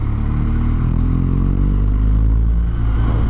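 A BMW R1250GS motorcycle engine pulls while accelerating on the road, with a loud, steady low drone and rising harmonic tones and no talking.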